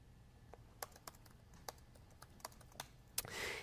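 Code is typed on a computer keyboard as sparse, sharp key clicks spaced irregularly, quiet and close, ending with a brief soft rustle, with no speech.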